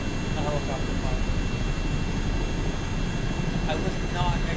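A CH-47D helicopter flies in a flight simulator game, giving a steady loud droning engine and rotor roar that runs throughout, with faint voice-like sounds over it.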